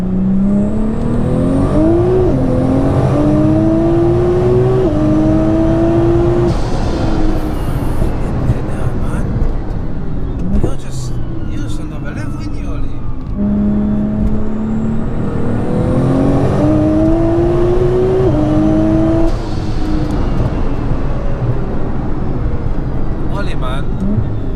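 An 1100bhp JM-Imports Nissan GTR accelerates hard through its gears, the engine note climbing in repeated surges that shift up, loud and continuous inside the car as people talk over it.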